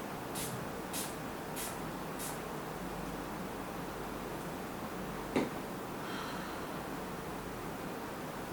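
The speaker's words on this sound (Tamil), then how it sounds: "இதை நல்லா ஷேக் பண்ணிவிட்டு நான் வந்து ஸ்ப்ரே பண்ண போகிறேன்." Four quick hissing bursts of makeup setting spray in a row close by, followed later by a soft click and another faint spray, over a quiet background hiss.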